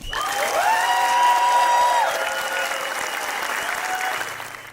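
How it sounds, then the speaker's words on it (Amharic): A motivational talk audience breaks into loud, sustained clapping that fills the room, while a tonal electronic whine rises and holds underneath before fading, with no talking over it. "በደንብ አጨብጭቡ"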